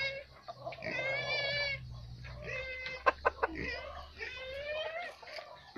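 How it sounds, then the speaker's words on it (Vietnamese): A young yellow-feathered decoy gamecock gives drawn-out clucking calls near the microphone, broken by a few sharp clicks and knocks, with a voice faintly in the background. "Đây là gà mã vàng nhá."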